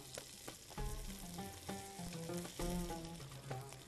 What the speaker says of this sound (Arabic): الحين بنضيف هذا الزيت عليه.